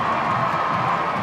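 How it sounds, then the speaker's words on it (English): A packed rugby crowd at a Welsh varsity match between Cardiff University and Swansea University roars and cheers in a continuous loud wall of voices, close and sustained throughout. "The crowd are up for this one, clearly."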